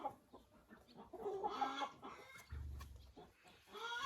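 Silkie hens cluck softly in short, scattered bursts nearby, with low murmuring clucks and a brief louder cackle among farmyard rustling.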